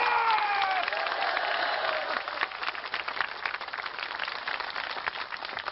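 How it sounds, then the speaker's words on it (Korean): Crowd clapping at an outdoor stadium religious revival meeting, a broad rattling patter that rises after a brief tonal sound at the start and continues unevenly to the end. "자, 박수로 올립니다."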